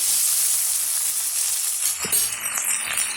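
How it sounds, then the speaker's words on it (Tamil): Steady, bright sizzling of onion and garlic sautéing in a hot pan, a continuous hiss with a faint clink partway through. "வெங்காயம் வெள்ளை பூண்டும் ஒரு அளவுக்கு வதங்கி வரட்டுங்க"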